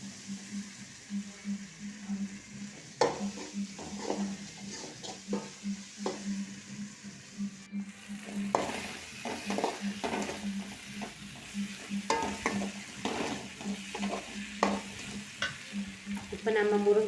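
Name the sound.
stirring tomatoes sautéing in a pan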